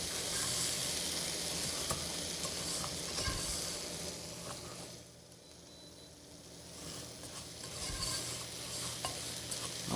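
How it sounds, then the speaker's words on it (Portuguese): Rice toasting in a pan with turmeric is stirred continuously, a spoon scraping and rasping against the pan bottom over a soft steady sizzle, close and fairly loud, briefly easing mid-clip before picking up again. "Não para de mexer para ele não grudar aqui embaixo da panela, no fundo."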